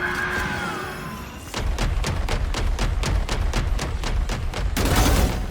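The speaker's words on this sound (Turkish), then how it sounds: "Tüm füzeler ateşlendi. Patladı." A rapid rhythmic volley of booming missile blasts pounds in quick succession in Valorant, then a louder explosion at the end, heavy and close.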